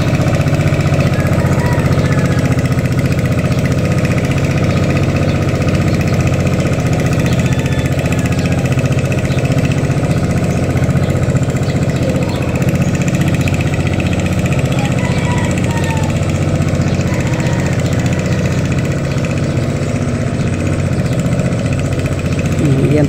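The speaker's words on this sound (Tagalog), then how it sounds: "Ito po aming makina po ay ito po ginagamit na po doon sa kabila pong palayan." A farm machine engine used in a rice paddy runs at a steady loud drone, continuous and close for the whole stretch without pauses.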